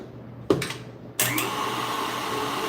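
Stand mixer fitted with a whisk attachment switching on to beat eggs and sugar at high speed, a brief start then a steady loud whirring hum that continues to the end.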